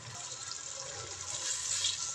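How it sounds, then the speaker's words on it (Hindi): A glass of water is poured into fried spice masala in a pan for a dhaba-style lauki chana dal, a steady rushing splash and sizzle that swells slightly toward the end. "1 गिलास हम पानी डाल देंगे मसाले के अंदर।"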